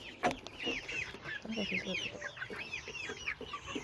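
Chickens clucking in a flock of young birds and hens, a quiet run of repeated short clucks and chirps near at hand, with no talk over them.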